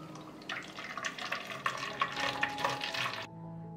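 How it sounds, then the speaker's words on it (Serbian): Chamomile tea trickles into a spray bottle, a light splashing pour with bubbly surges and small gurgles that rise and fall for about three seconds, then stop abruptly. "sipat ću u prskalicu."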